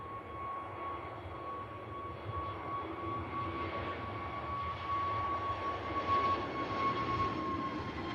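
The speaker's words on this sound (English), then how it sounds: "EasyJet A320 Neo heading down to Amsterdam Schiphol" An EasyJet Airbus A320neo departs Manchester Airport, a steady distant jet roar with a thin sustained tone that swells slightly toward the end.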